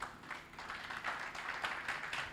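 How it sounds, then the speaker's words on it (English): An audience at a legal memorial colloquium claps in a steady, moderately distant round of applause, soft and continuous throughout. "Please, can we give him a round of applause?"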